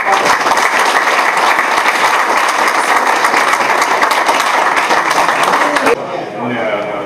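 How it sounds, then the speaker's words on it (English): Dense, sustained applause from a conference audience for three presenters at a blockchain event, a loud continuous wash of many hands that cuts off abruptly near the end, leaving quieter room sound. "can we give a round of applause to our 3 presenters?"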